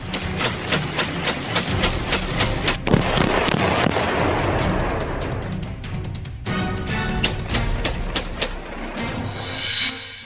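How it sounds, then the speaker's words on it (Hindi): Rapid gunfire from an AK-47 rifle: loud, dense cracks fired in quick succession, thickest in the first few seconds, then continuing more sporadically over a steady background rumble. "AK-47 से ताबड़तोड़ फायरिंग करता"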